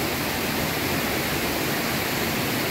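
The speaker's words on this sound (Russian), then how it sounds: "Хорошо здесь у водопада" Steady, loud roar of a mountain waterfall in Abkhazia, a dense continuous rush of falling water with no breaks and no voices.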